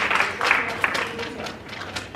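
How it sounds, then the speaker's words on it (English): An audience at a student leadership workshop gives a short round of applause, a dense patter of claps that is fairly close and steady, with voices murmuring underneath. "Give her a round of applause."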